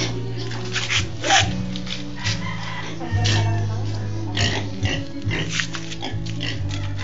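A roughly three-month-old pig grunting and oinking in short repeated bursts at close range, mixed with steady background noise.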